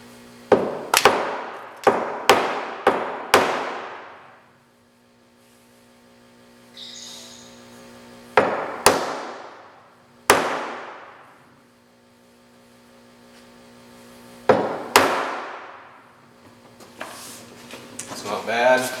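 A hammer taps a postform Formica laminate countertop at its miter joint, a series of sharp, close knocks in quick clusters separated by pauses, over a low background hum.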